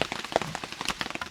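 Steady rain patters on surfaces outdoors at a bushcraft cabin building site in the wild, a continuous close hiss dotted with brief louder drops.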